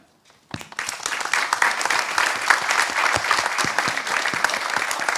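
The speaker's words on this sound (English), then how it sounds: "a big round of applause to all of them" A conference audience bursts into a round of applause after a quiet start, sustained dense clapping from a large room that keeps going to the end.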